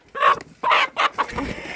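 A chicken clucks in several short, loud bursts close by, with a softer squawk trailing off at the end.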